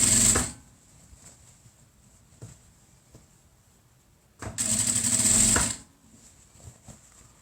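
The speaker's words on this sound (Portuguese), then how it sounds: "A gente não fica forçando a máquina, ela tem o motor tem um giro específico" Sewing machine stitching fabric for a small bag, two bursts of steady whirring motor hum with rapid needle chatter, one short at the start and a longer one after a pause filled with faint clicks and handling, close and clear with no talking.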